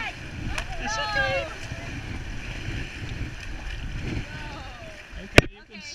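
A canoe is paddled on open water, with faint splashing strokes and wind noise under people talking, ending with a sharp knock.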